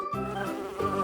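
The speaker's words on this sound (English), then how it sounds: "Bee." A bee buzzing steadily close by for about a second, a sustained droning hum with no voices over it.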